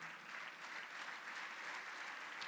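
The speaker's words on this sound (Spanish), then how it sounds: "Denle un aplauso a Cristo." A church congregation claps continuously, fairly faint and distant, a steady roomy patter of many hands with no voices on top.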